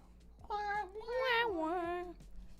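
A cat lets out a drawn-out, wavering meow lasting well over a second, close and clear, with a quieter trailing note at the end.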